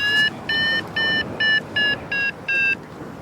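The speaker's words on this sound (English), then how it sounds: "That little beeping noise is a great noise." A hang glider variometer sounds seven short electronic beeps in an even rhythm as it registers a climb, each tone clear and close, then falls silent, with no speech in between.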